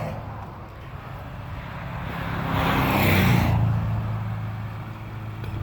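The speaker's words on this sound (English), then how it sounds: "Cars going by." A car passing by on a frozen, remote Wyoming road, rising from a distant hum to a close whoosh and fading away, with a constant low engine drone in the background.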